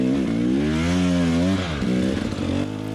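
A hard enduro dirt bike engine revving close by at a race in Idaho, a loud buzzing two-stroke whine that climbs, holds, dips sharply, then sputters and bogs unevenly.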